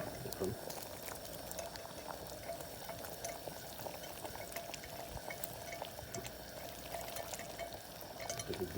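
Fried garlic in mustard oil is poured into a pot of dal, giving a steady, close hiss and sizzle that runs throughout.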